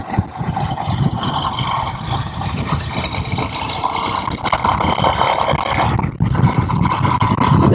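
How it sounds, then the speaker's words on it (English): A Honda CRF230L dirt bike engine drones steadily while being ridden along a construction-site trail, a loud, continuous roar that holds throughout with only a short dip near the end. "I've got a CRF230L that I'm riding right now"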